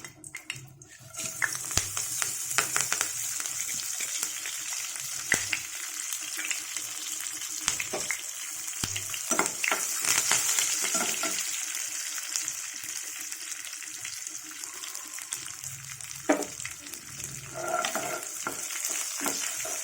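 Curry leaves fry in a pan for a capsicum, sesame and tomato chutney, giving a steady, close sizzle with occasional stirring clatter and no talk throughout.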